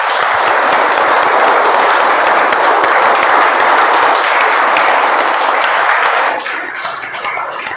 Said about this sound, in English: let's give a thunderous round of applause in sync, and let's welcome our Toastmaster of the day